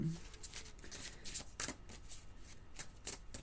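Tarot cards are handled and laid down during a reading, giving soft intermittent flicks and slaps of card stock, faint and close, with a few sharper snaps.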